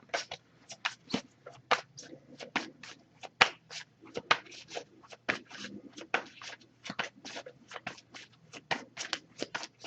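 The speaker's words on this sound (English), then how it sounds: "if I shuffle for a while without anything coming up, I'll just put the deck down" A tarot card deck is shuffled close up in quick, crisp riffles and taps, a busy uneven series of sharp card slaps and flutters that continues throughout with no talking.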